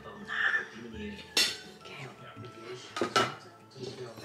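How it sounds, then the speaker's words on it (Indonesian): A fork and spoon clink and scrape against a plate as a nine-month-old baby eats a Mexican dish with tomato sauce. The taps come close and irregular, with soft voices murmuring in the background. "Terus makannya pakai garpu sama sendok."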